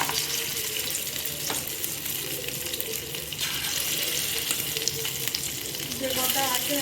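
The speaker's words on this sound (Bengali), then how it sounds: "সাদা তেলের মধ্যে চিকেনের পিসগুলো দিয়ে দিচ্ছি।" Cornflour-coated chicken pieces fry in white oil in a small frying pan for chili chicken, a loud continuous bubbling sizzle that rises slightly near the end.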